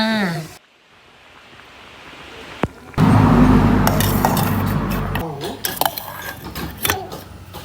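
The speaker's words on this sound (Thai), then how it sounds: "ทอดมันฝรั่งค่ะ" Potatoes drop into hot oil and set off a loud, sustained crackling sizzle, with metal utensils clattering on pans. A quiet pause comes before the frying begins, and a voice talks now and then.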